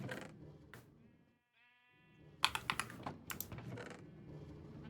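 A single sheep bleats in a Minecraft-style video game, a short wavering call set between bursts of computer keyboard typing and clicking.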